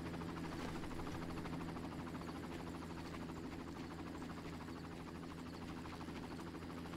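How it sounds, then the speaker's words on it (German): Helicopter hovering in the video game Far Cry, its steady rotor buzz and engine drone holding at one level throughout, fairly faint with no talk over it. "Das ist jetzt wieder der einzige Heli, der sich nicht verabschieden wird, der hier jetzt rumlungert"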